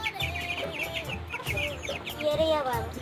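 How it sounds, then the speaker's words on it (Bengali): A desi chicken chick peeping in quick, high, repeated calls, several close together in an irregular rhythm, close and clear over faint background. "এটা দেশি মুরগির বাচ্চা গলা ছিল।"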